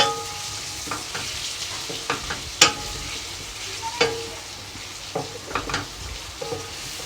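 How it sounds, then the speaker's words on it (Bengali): Meat frying in white oil for a Bengali-style green masala chicken curry, a steady low sizzle punctuated by sharp spatula scrapes and clinks against the pan at irregular intervals. "দেখতে পাচ্ছেন আমি একটু মাংসটাকে কষিয়ে নিই"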